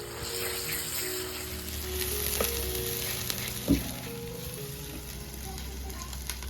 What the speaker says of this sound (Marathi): आपण जे वाटण करून घेतलेलं आहे ते वाटण मी आता यात घालते.